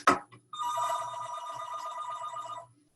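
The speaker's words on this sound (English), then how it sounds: "you get to hear our phone singing in the background" A telephone rings in the background of a woodturning shop, one sharp click followed by a single sustained electronic ring lasting about two seconds, moderately loud and heard alone.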